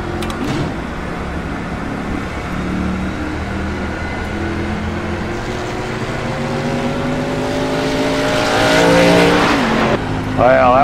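A NASCAR Xfinity race car in the iRacing game at Dover International Speedway, its engine loud and revving near the listener, with a tire squeal and a brief rough scrape near the end as it strikes the wall.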